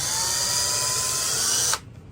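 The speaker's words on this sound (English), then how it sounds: "I drill a hole in the top each" A power drill bores into the top of a plastic bottle, giving a steady high whine for under two seconds before it stops abruptly.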